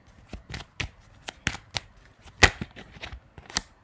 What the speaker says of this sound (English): Hopefully, I'll catch it before I shuffle.